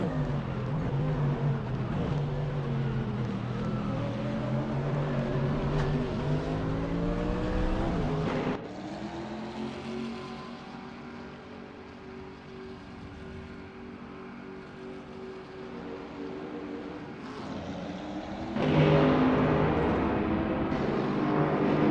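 GT3 race cars, including a 2016 BMW M6 GT3, lap Maple Valley in a racing game, with a steady engine drone that rises and falls through gear shifts and passes, fairly quiet, with no voices.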